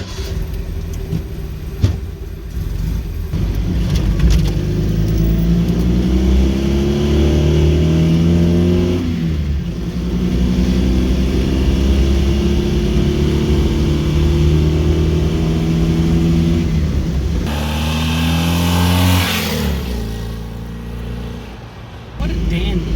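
A 1971 Honda N600 on its first test drive after a mechanical restoration, its small engine close and loud, climbing in pitch through repeated revs and gear changes.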